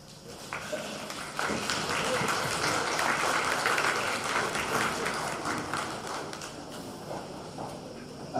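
Graduation commencement audience at an early college high school bursting into applause, a large crowd clapping that swells after a second and holds loud and steady, easing slightly toward the end, with some voices mixed in.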